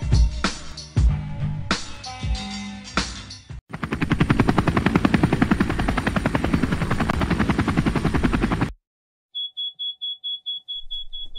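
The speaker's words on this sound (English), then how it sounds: "This copter is failing." A failing cartoon helicopter engine: sputtering clattering bursts give way to a rapid rotor-like chop and shrill whine, which cuts off abruptly and is followed by a few faint beeping pulses.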